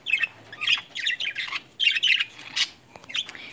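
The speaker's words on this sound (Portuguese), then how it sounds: "Esse aqui é um periquito inglês que eu tenho." An English budgerigar, a crested pet parakeet, gives a run of sharp, close squawks and chirps in quick irregular bursts, loud and alone with no talk.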